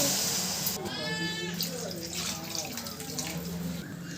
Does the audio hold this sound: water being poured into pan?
yes